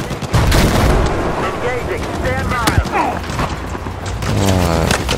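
Gunfire in the Battlefield 4 video game: loud bursts of shots and booming blasts crowd the mix at close range, with a faint voice briefly underneath.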